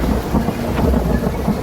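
Heavy, steady rain pours down in Kathua, Jammu and Kashmir, with a low rumble of thunder rolling underneath, a dense, loud wash with no one speaking.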